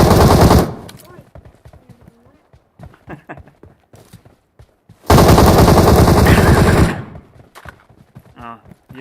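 Rapid automatic gunfire from the Metro Royale shooter game comes in two loud sustained bursts, with scattered single shots and game noises between them and voices talking over the quieter stretches.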